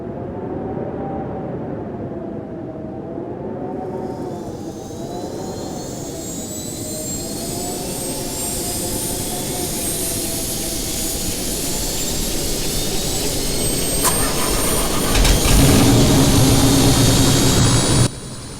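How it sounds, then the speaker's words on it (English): A game helicopter engine starts up in a mobile flight simulator, a loud, steady turbine whine rising in pitch as it spools up, with no talking. "But first, turn the helicopter on."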